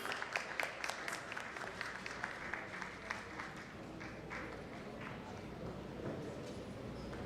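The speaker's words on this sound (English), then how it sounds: "Can we have a big round of applause for the participant" Applause for a participant at a trainer award ceremony, a steady wash of clapping that holds evenly throughout with a few sharper claps standing out early on.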